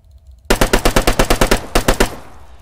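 Arma 3 video game weapon fire: a loud, close burst of about a dozen rapid evenly spaced shots, a brief pause, then a few more quick rounds before a short decaying tail.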